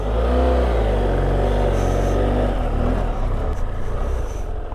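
An old Austin truck engine running, a loud close low rumble with a rising rev in the first seconds, then a rougher uneven idle as it settles.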